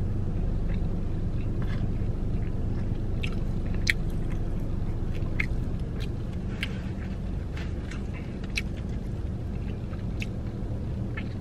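Fried chicken thighs, original hot and Parmesan garlic flavours, being bitten and chewed up close in a mukbang, with steady crisp crunches and wet chewing and no talking.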